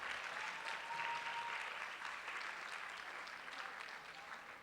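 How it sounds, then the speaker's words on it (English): Steady audience applause at a 2007 neighborhood anti-litter poster contest event, welcoming a costumed litter mascot onstage; dense, even clapping from a crowd at moderate distance, fading slightly toward the end with no talk over it. "Let's give Inspector Litter a round of applause."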